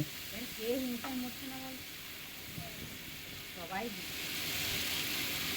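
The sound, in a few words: sautéing khichuri masala with turmeric and salt in pan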